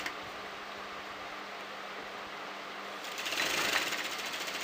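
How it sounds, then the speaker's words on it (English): A sewing machine stitches cotton fabric with a steady, close mechanical whir that grows louder and faster partway through; no voices. "and I'm going to start sewing"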